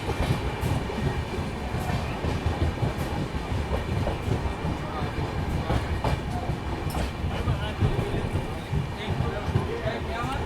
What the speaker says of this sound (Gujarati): જો ભાઈ ટ્રેન તો હાલ અત્યારે સ્પીડમાં છે